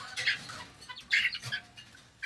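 Young bantam chickens give short, sharp squawks and chirps in a few close bursts separated by brief quiet gaps.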